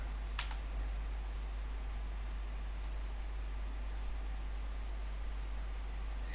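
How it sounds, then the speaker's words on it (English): Two isolated key clicks on a computer keyboard, short and fairly faint, sounding over a quiet steady hiss with no talking. "Now I'm going to type the command K."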